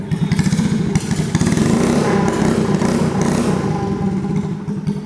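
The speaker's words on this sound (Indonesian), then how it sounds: "berisik banget suaranya knalpotnya" A modified Honda Astrea Grand motorcycle revs loudly and close by through an open, unmuffled free-flow exhaust, rough and clattering, with rises and dips in pitch over several seconds.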